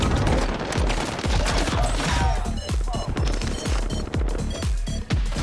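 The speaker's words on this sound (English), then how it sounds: "I'm shooting too much." GROZA rifle gunfire in a video game: dense, loud bursts of rapid automatic shots fill the whole stretch, with sharp repeated cracks and brief gaps between volleys.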